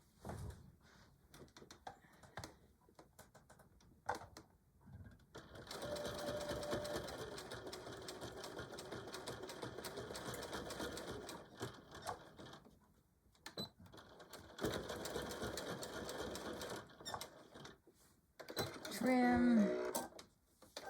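A sewing machine stitches a denim phone pouch in long steady runs separated by pauses, with a person talking quietly between bursts of stitching.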